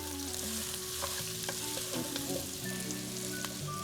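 Onion, garlic, ginger and cilantro stems sizzle in a pot for a goat fry while a spoon stirs them, giving a continuous frying hiss with repeated scraping clinks close by.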